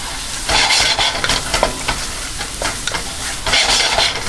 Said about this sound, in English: you don't want to brown your garlic this time